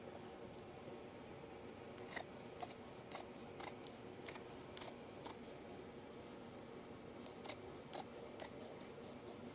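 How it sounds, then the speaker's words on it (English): Scissors snip repeatedly through excess backing fabric on a freshly tufted rug, a steady run of sharp, close cutting clicks over a constant fan-like hum. "Let's trim this excess backing off of here and have our carpet finished."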